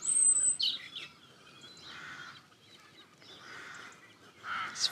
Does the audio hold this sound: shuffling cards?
no